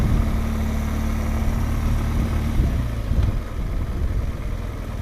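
Several motorcycles idle together in a queue for the ferry to Santander, making a steady, loud, close engine rumble that thins slightly toward the end, with no voices.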